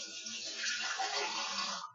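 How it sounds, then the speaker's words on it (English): Water pours steadily into a juicer for about two seconds, a close, continuous hissing splash with no talking. "What I like to do is just add a little bit of water to it."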